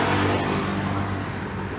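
A 2004 Isuzu Panther with a 2.5-litre diesel engine idles and revs under the throttle, a loud, steady mechanical drone close by that slowly eases off.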